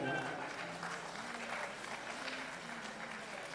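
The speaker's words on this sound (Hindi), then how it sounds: "आप तालियों से इस्तकबाल करें।" Applause welcoming a poet at a mushaira in Bangalore, soft spread-out clapping from the audience with a faint musical tone running beneath, fairly quiet and distant.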